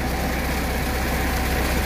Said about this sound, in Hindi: तो ये ट्रैक्टर लगा हुआ है और जो है ये पानी जा रहा है फसलों को